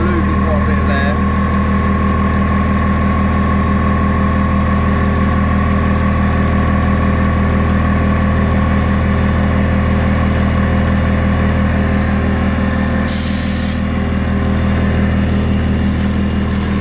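Motor of a Dewalt DCP10QTC 1100 W 240 V quiet mid-pressure air compressor running steadily, a close, loud, constant hum and drone without a break, with one short hissy burst near the end.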